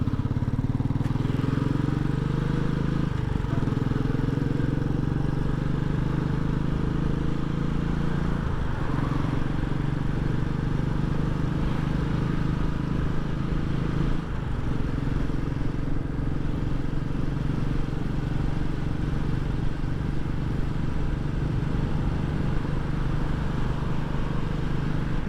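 Car engine running while driving on a road trip, a steady, loud, low drone with rumbling road noise heard from inside the vehicle for the whole stretch.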